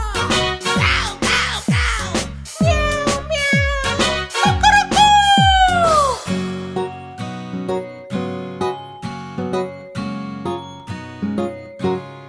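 Kitten meows sound within a Telugu children's rain song, with several rising and falling meow calls over rhythmic music before the melody continues alone.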